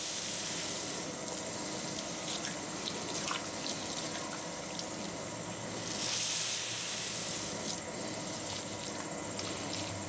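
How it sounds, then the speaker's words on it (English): Water hisses and splashes steadily into a rye whiskey mash, a continuous pour heard close up, with a slight swell partway through and no talking. "Might have to add a little more water."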